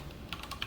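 A few soft computer keyboard key presses tap quietly in quick succession while someone codes at a desk.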